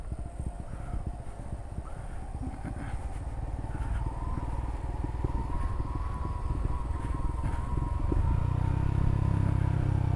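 A manual-gear motorcycle rolls down the steep Clongop incline in Gunung Kidul in gear with the clutch released, so the engine holds it back. Its engine gives a steady, close, low rumble with light clatter that swells slightly toward the end, and no one speaks.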